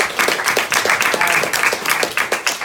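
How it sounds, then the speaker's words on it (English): A group claps in a quick, dense burst of applause lasting a few seconds, fairly loud and close, at an indoor talk on transhumanism. "Give a round of applause."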